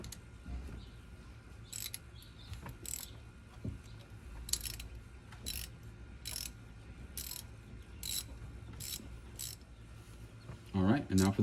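Shifter bolts being loosened with a ratchet on an 87-93 Foxbody Mustang, a series of crisp repeated ratcheting clicks at an uneven pace, close by, with a brief clunk at the end.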